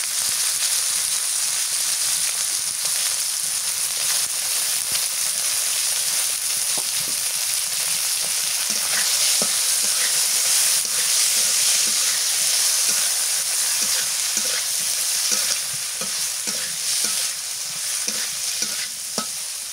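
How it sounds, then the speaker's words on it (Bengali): Small shrimp fry in a pan with a steady, dense sizzle and crackle that holds for about twenty seconds, close and even, with occasional stirring scrapes and no voices. "মাছ ভাজা হচ্ছে"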